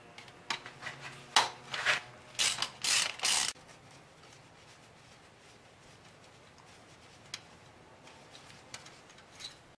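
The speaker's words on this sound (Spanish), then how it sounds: "Entonces voy a quitar este tornillo y me voy a conectar de aquí a aquí." A ratcheting tool loosens a screw on a car's ground connection with a run of quick, close metallic clicks and ticks lasting a few seconds. Faint scattered ticks follow in near silence.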